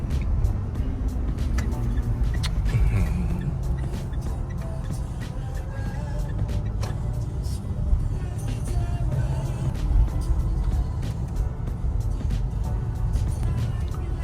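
A Mitsubishi Pajero 3.0 Mivec automatic running on LPG accelerates on the road, heard from inside as a steady, dense low rumble of engine and road noise, loud and constant throughout.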